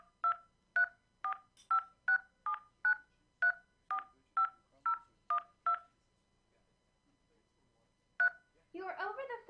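Series of about twelve touch-tone keypad beeps entering a card number on an automated over-the-phone bill payment line, evenly spaced and clear, then a pause, one more beep and a burst of automated voice.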